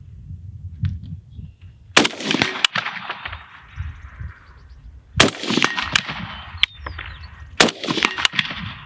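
A Beryl rifle in a video game fires three separate short bursts, each a loud, sharp crack with a trailing echo, with quieter gaps between.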